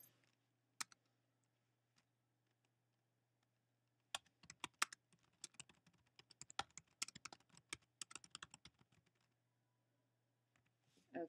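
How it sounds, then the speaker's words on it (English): Light, scattered keystrokes on a computer keyboard as a short message is typed, sparse taps at first, then a quicker run of clicking, quiet and close over a steady low hum. "if you wanted to add a message, you could type it in right here"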